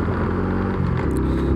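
A Honda Biz motorcycle rides along with a steady, loud low engine rumble and road noise throughout, no voices.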